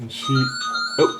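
A phone ringtone chimes during a model tank kit review, a short tonal melody heard under a man's brief speech.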